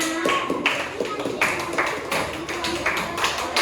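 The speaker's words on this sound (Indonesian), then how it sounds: "beri tepuk tangan buat kawan-kawannya" A classroom of students claps for classmates after a group presentation, scattered uneven claps sounding close and mixed with voices talking.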